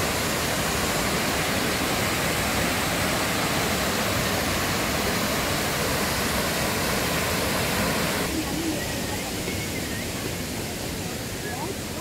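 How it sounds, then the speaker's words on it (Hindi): The Devi's Fall waterfall in Pokhara, Nepal roars as a steady, loud, broadband rush that stays dense and unbroken throughout, easing slightly near the end. "ये वही वाटरफॉल है जो गुप्तेश्वर महादेव में देखा हम लोगों ने।"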